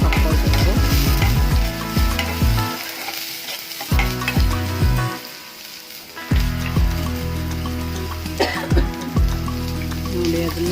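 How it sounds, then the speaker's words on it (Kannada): Roasted peanuts fry in hot oil in a pan, with a continuous crackling sizzle broken by repeated scraping and stirring strokes of a spoon, close and fairly loud. "ಚೆನ್ನಾಗಿ ಫ್ರೈ ಮಾಡ್ತಾ ಇರಬೇಕು."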